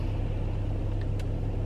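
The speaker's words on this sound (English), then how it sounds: "Right now I'm trying to let my car warm up a little bit" A car engine idles while warming up, producing a steady low rumble with no change in pitch, close and continuous for a short moment.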